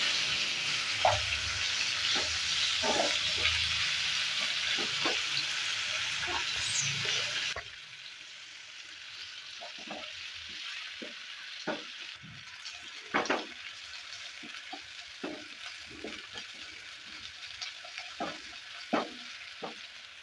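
Finely chopped onion and garlic cloves frying in a pan for karela sabzi, a broad sizzling hiss for the first several seconds, then quieter crackle with scattered sharp spatter pops and occasional stirring clinks.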